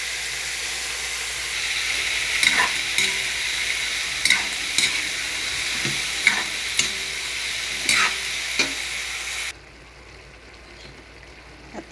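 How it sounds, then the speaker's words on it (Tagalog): String beans, squash, squash shoots and Malabar spinach fry in a pan with a loud, steady sizzle, broken by sharp clinks of stirring, before the hiss suddenly drops away near the end. "iluluto ko na ang aking gulay. Yung sitaw, kalabasa, at saka talbos ng kalabasa, at saka alugbati."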